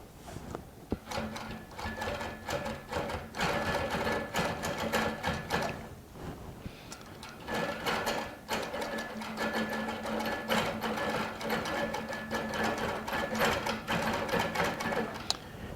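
A Baby Lock Regent sewing machine stitches in the ditch during ruler work, running in steady rapid bursts of needle clatter with a short pause near the middle, close and clear.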